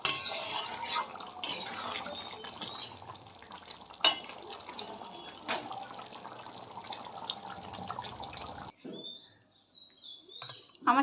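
Chicken and potato curry finished with ghee bubbles and sizzles steadily in a pot, with a few stirring scrapes and clatters, then the sound drops away near the end.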